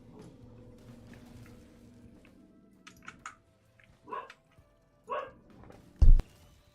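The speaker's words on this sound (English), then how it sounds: "Dog be barking." A dog in a video game barks several times in short, separate bursts, the last one sharpest and loudest, against a quiet background with faint game sounds.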